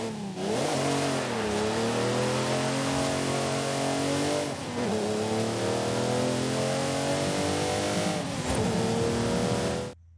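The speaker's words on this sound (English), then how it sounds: "we've also got that wonderful engine, of which I'll go and let you have a listen to now" A Ferrari 250 GT Berlinetta Lusso engine in Forza Horizon 5 revs repeatedly, its loud, smooth, harmonic howl rising and falling in several long sweeps, heard alone without any voices.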